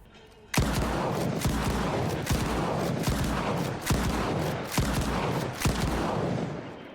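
A shotgun fires repeatedly in S.T.A.L.K.E.R. 2, loud booming blasts roughly every second, with mechanical reloading clatter between some shots.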